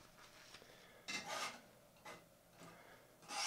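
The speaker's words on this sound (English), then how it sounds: "I might scrape some of this paint off here." Excess oil paint is being scraped off a canvas in a few separate, short strokes. Each gives a faint, dry rasping scrape, with quiet pauses between them.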